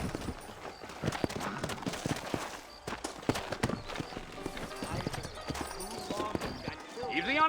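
In the video game Red Dead Redemption, horse hooves clip-clop in a rhythmic stream over a dusty trail, with a whinny near the end and voices talking over them.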